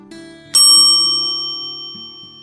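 A bright notification bell ding rings once, clear and close, with a shimmering metallic tone that decays slowly over about two seconds on its own.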